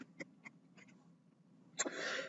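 A single sharp sneeze bursts out near the end, preceded by a few soft breaths and quiet clicks, close and fairly loud.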